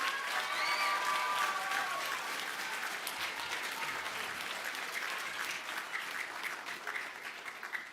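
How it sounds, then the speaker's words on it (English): An audience applauds teachers at an Inauguration Day event, a full sustained clapping that swells at first and then slowly thins out, with faint crowd voices underneath. "a big round of applause"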